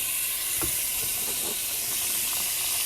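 Butter and oil sizzling in a hot pan before rice is added, a steady bright hiss throughout with a few faint low knocks, no talk.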